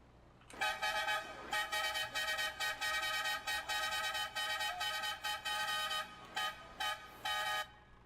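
A Scania R440 2009 mod truck in Euro Truck Simulator 2 sounds a loud, bright musical air horn, blasting in a long run of rhythmic toots with short gaps, close and alone with no talk.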